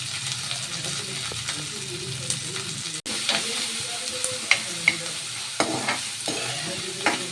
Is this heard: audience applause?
no